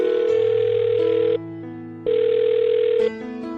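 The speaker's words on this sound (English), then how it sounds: "now I'm going to dial the phone number and call him." Telephone tones sound as a call is placed: steady electronic dial and ringing tones that shift in pitch several times, loud and close, with no voices.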